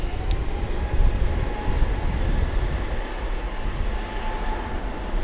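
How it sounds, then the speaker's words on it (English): EasyJet A320neo airliner departing Bristol Airport for Belfast, its engines producing a continuous low, broad roar that stays heavy and steady throughout, heard from a distance without any talk. "15 degrees of flaps for the departure on the EasyJet A320 Neo heading towards Belfast"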